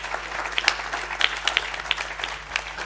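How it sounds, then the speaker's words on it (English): An audience at a literary festival event gives a round of applause, with dense, continuous clapping from a crowd and a steady wash of hand claps throughout. "So an applause for Ricardo"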